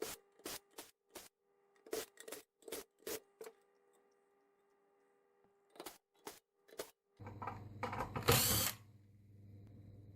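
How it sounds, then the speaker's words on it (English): Screws being unscrewed from a GSM duplexer, heard as a run of short, sharp ratcheting clicks in quick bursts, then a pause and a few more clicks. A louder scraping, rustling handling noise follows near the end. "Now all the screws are removed."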